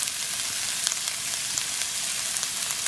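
Onion fries in a pan with ground beef, giving a bright, steady sizzle with scattered pops and crackles, close and fairly loud, with no one speaking.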